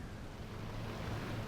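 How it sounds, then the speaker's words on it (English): Ocean waves surge and wash in the Ships At Sea fishing-boat video game, a steady, dense roar of water and wind without pause through the short moment. "The waves are pushing us round."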